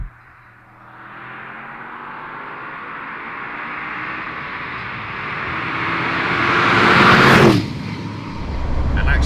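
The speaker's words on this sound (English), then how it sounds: "For a car that's manufactured and sold in 2022/23, it still sounds really good." A 2022/23 Audi RS6 engine builds while driving through an Austrian tunnel, a rising, swelling roar that peaks sharply then drops off and picks up again, heard from inside the car.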